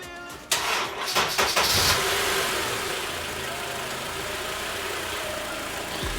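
A car engine cranks and fires up while powered by a NOCO GB40 Boost Plus jump starter, with a short burst of starter churning followed by a steady, fairly loud idle that carries on to the end.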